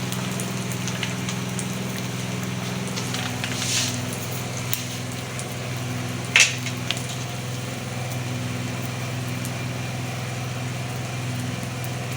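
An egg fries in a pan for a burger, a steady low sizzle and crackle with occasional louder pops and spatters across the whole stretch.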